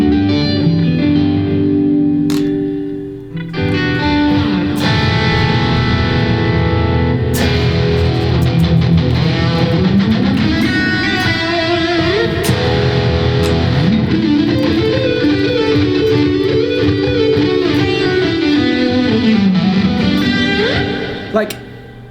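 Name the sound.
Kiesel Aries electric guitar with effects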